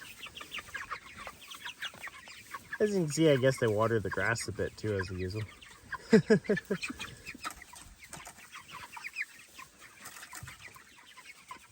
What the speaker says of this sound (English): here's some action shots of the chickens using the water